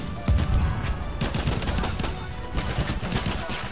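Rapid bursts of gunfire in Battlefield 1, with repeated automatic volleys and overlapping shots forming a dense, busy battle din from start to finish.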